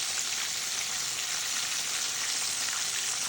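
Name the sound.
chicken leg frying in oil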